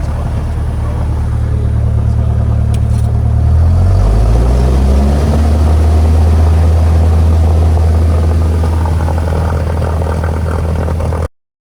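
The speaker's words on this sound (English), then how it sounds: "The plane is really loud in the video" Loud propeller airplane engine drone in flight over the Sea to Sky region, a steady close rumble with tones that shift in pitch as power changes, continuous and without talk.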